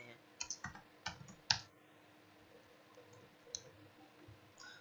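A handful of quick keyboard clicks at close range on a computer keyboard, tapping in a brief burst of keystrokes and then settling into quiet room tone.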